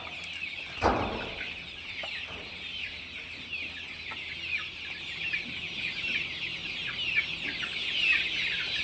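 Many poultry-farm chickens cluck and chatter continuously in a busy, crowded coop, with a brief thump near the start.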